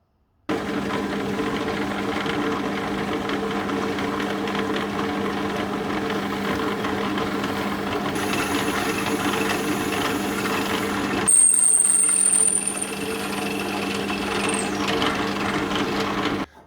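A power drill bores a hole through a wooden cheese cutting board, a steady loud whirring drone that runs continuously, with a brief higher-pitched whine near the end.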